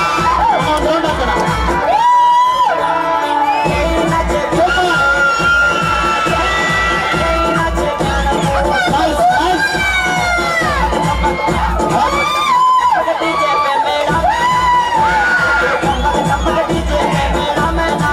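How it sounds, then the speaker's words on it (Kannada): A crowd cheers and whoops at a wedding celebration, loud excited voices rising and falling with shouts, over music with a beat playing throughout. "ಚಪ್ಪಾಳೆ ಬರ್ಲಿ."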